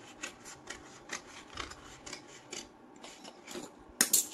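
Scissors snip through a paper pattern for the back piece of a katori blouse, giving soft, quiet, evenly spaced rasping cuts repeated steadily, with a sharper clack at the end.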